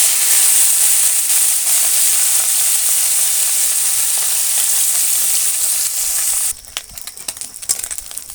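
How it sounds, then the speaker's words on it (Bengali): Small fish fry in hot oil in a wok with a loud, steady sizzle that drops after several seconds to a quieter crackle and scattered pops, as if stirred, with no voices. "কড়াইতে আমি তেল দিয়ে দিয়েছি, তেলটা আমার গরম হয়ে গেছে। এবার মাছগুলো ভেজে নেব।"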